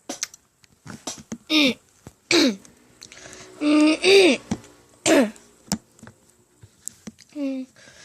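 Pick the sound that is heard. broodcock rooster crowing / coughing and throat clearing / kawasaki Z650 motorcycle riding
coughing and throat clearing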